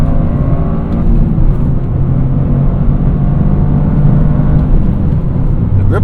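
A Toyota GR Corolla pulls hard under acceleration while passing on a highway at around 60 to 70 mph, its engine droning loud and steady from inside the cabin with heavy road and wind noise underneath.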